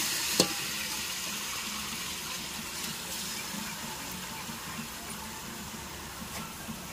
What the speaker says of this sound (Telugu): ఇప్పుడు మనం మ్యారినేట్ చేసి పెట్టుకున్న చికెన్ వేసేసుకుందాం.